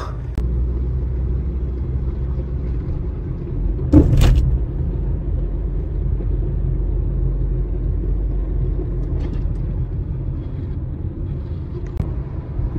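Heavy road traffic on a city bridge heard from inside a moving vehicle: a steady low engine and tyre rumble runs throughout, with a brief louder thump near the four-second mark and faint passing noises later.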